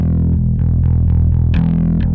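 Bass guitar plucked with the fingers instead of a pick, a short run of round, warm notes, each with a soft attack, loud and close and heard alone.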